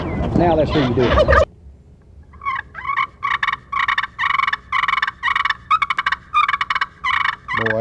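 A pocket slate friction call imitates a turkey hen with a run of short, rhythmic yelps. The yelps come in quick bursts after someone briefly speaks.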